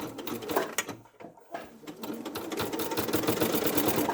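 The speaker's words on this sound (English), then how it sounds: "I'm just going to sew around really quickly just so you can see." A sewing machine stitches the arm seam of a fabric teddy bear, a close, rapid mechanical rattle that pauses briefly near the start and then runs steadily and loudly to the end.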